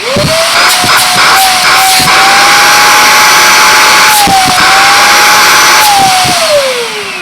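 A Goblin corded stick vacuum cleaner runs loud and steady at close range, its motor whine rising and holding a sustained pitch with brief dips, and no one talking over it.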